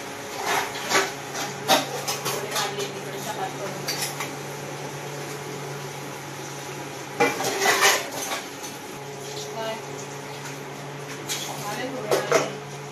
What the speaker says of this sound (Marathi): होईपर्यंत मी भांडे घासून घेते.